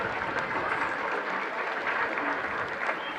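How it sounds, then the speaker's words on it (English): An audience applauds steadily at a St Mary's Athenry U17A championship final presentation, a dense, even patter of many hands clapping for the whole stretch. "So a round of applause to Noah and Jack"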